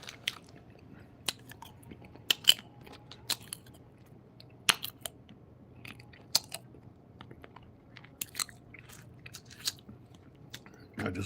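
A person chewing food with irregular crunchy bites and sharp clicks scattered over a quiet background hum, close to the microphone with no talking.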